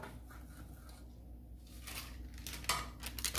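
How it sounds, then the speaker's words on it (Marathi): Soft scraping and brushing as oil is spread around the inside of a metal cake tin, faint and close, with a few louder light metallic scrapes near the end and no talk. "पहिल्यांदा हे केकचं टिन घेतले, त्यामध्ये तेल घालू, त्याला चांगलं तेल लावून घेते"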